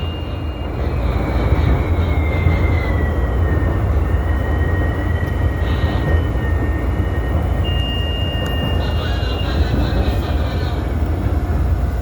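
Onboard a Chicago CTA Brown Line rail car riding the elevated rails, a steady loud rumble of wheels and car noise fills the whole stretch, with high whining tones from the motors gliding up and down.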